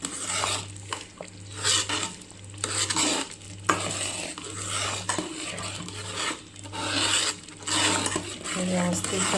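Sabudana papad batter with sesame seeds is stirred in a pot, giving repeated scraping and swishing strokes with short pauses between them over a steady low hum.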